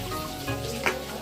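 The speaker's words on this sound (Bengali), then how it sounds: "মাছের জন্য মশলা কষানো হচ্ছে" Spice paste of garlic, onion and ginger sizzling in a pan for fish curry, with a brief stirring scrape near the end, close and fairly loud for just over a second.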